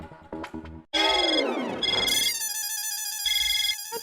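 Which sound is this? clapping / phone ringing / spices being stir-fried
phone ringing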